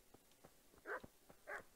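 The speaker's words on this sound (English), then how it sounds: "Shut up, dog." A dog in Kingdom Come: Deliverance gives two short, faint barks amid soft, quiet background sounds.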